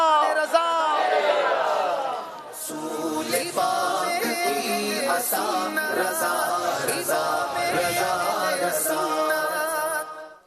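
At a naat recitation competition on a religious TV show, a large studio crowd shouts back a slogan in unison, a loud sustained roar of many voices lasting about ten seconds.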